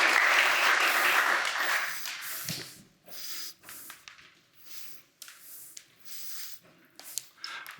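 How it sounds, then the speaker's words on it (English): An audience at a tech product premiere applauds the actors on stage, a burst of clapping for about three seconds that fades, followed by quieter scattered rustles and a few isolated claps. "Give me an applause for all these actors on the stage"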